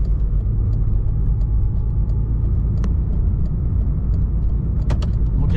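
A 1990 Peugeot 205 Junior with a 1-litre engine and four-speed gearbox drives steadily, its low engine rumble and road noise continuous and close throughout, with a few faint clicks and rattles.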